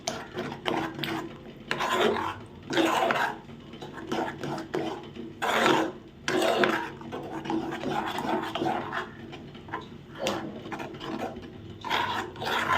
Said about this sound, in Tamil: இது மாதிரி நல்லா மிக்ஸ் பண்ணி கிளறிக்கிட்டே இருங்க